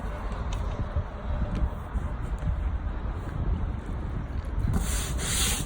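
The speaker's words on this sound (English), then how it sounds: "use the brush and scrub it" Stiff brush scrubbing Merbau decking timber coated with cleaning mix, a steady continuous rough rubbing and scraping close by, sustained throughout with no talk.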